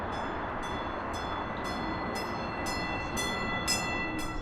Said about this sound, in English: It is a sound light rail riders hear on the platform once every half hour